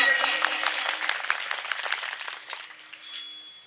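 Applause from an audience at a Marathi devotional kirtan, with many hands clapping in a dense, steady burst that thins and fades toward the end.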